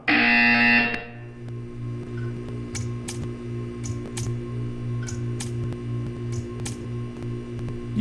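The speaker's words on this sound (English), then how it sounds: "When you hear the buzzer, stare at the arc." Loud, harsh electronic buzzer in the Portal 2 video game sounding for about a second, followed by a low steady hum with faint periodic ticks.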